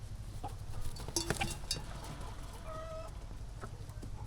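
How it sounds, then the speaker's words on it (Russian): Domestic hens cluck and squawk in a farmyard while being fed pieces of meat, a scattered run of short clucks and a few sharper calls over steady low background noise. "Сегодня что-то куры сами не в себе."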